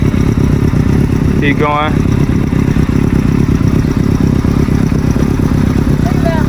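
A motorcycle engine runs steadily at low revs as a learner eases off the clutch and starts to roll, a continuous close rumble with a brief clatter, and a voice speaks encouragement over it.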